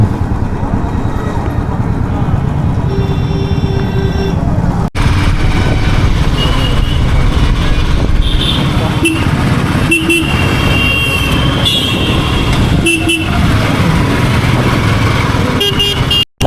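Dense road traffic on a busy highway on the way to Sikkim, heard from a motorcycle, with loud continuous engine and wind roar and repeated car horn toots cutting through.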